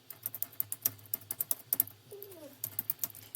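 Rapid typing on a computer keyboard, close and crisp, an uneven run of light key clicks with brief pauses.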